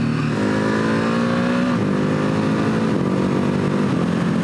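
A 2020 Ducati HyperMotard 950 SP motorcycle engine pulls hard under smooth throttle, its loud, steady drone rising in pitch, dropping at a quick-shifter gear change, then climbing again.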